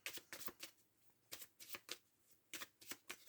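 A 32-card deck being shuffled in a French card-reading session, three quick bursts of riffling, each made of several crisp flutters, separated by short pauses, close and fairly quiet with no talk.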